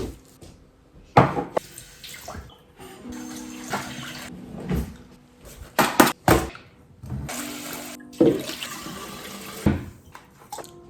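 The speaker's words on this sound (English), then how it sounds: "So I'm gonna wash my hands, the bowls, and put everything back." Water running from a kitchen tap into the sink while hands and mixing bowls are rinsed, with uneven bursts of splashing and clattering over about eleven seconds, fairly close.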